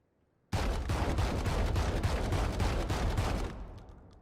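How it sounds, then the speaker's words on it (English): Judge, a fully automatic shotgun in the Valorant video game, fires one continuous rapid burst of loud booming shots for about three seconds, then cuts off with a brief fading tail. "This is a fully automatic shotgun."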